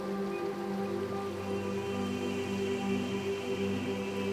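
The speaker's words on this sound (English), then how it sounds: "Feel the sound of the stream, not just with your ears, but with your whole being." Flowing stream water makes a steady, even rush and trickle with faint droplet patter throughout, alone and fairly soft, set under a sustained tonal hum.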